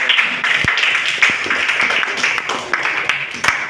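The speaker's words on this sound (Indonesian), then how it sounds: "beri tepuk tangan kepada saudara" A small group in a classroom-style setting claps their hands together. The clapping is fairly close and sustained, with a few sharper individual claps standing out from the mass.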